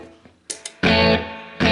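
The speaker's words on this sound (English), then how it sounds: "The reverb, it's an Accutronics reverb." A PRS SE Custom 24 electric guitar plays through a Crate 1R amp with Accutronics spring reverb: a few soft plucked notes, then loud strummed chords that ring out and sustain. No talking is heard.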